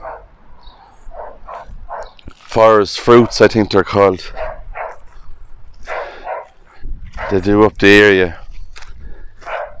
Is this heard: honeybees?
no